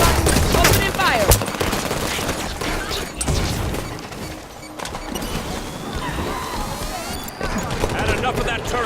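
Sustained gunfire in Halo 5: Guardians, loud rattling bursts and impacts that run throughout, with voices talking over the shooting.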